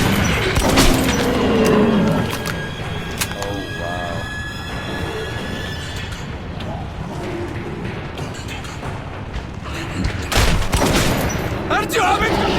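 Gunfire from the first-person shooter Metro 2033, a shotgun among it, with bursts of shots and crashes running through a busy game soundtrack while voices shout over the action.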